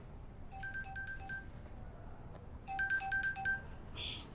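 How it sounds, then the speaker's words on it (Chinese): A phone ringtone for an incoming call plays two bursts of quick, bright electronic tones separated by a short pause, heard clearly against a quiet room. "不好意思，我接个电话。"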